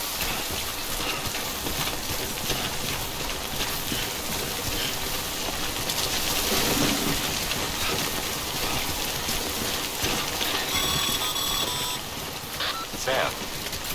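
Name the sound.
timefall rain in the video game Death Stranding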